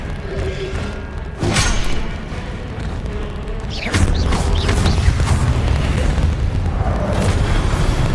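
In Hogwarts Legacy, a Confringo fire spell blasts with deep booming thuds and rumbling impacts amid game combat noise, loud and layered over a continuous low roar.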